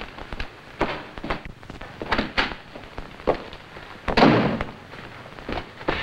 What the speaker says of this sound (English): Those shots I heard, sir, are firecrackers.